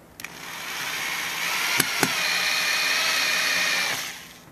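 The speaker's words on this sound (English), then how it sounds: "Now I'm gonna mount the bracket, screw all the screws in." A power driver runs steadily for about four seconds, screwing screws into a bracket for a tilt-over mast hidden by a chimney, with a couple of sharp clicks near the start.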